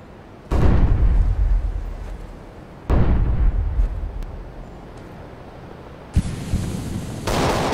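Flashbang grenade and gunfire in CS:GO: heavy booming blasts at intervals, each trailing off in rumble, followed by a harsh ringing hiss and sharper shots near the end, loud and close.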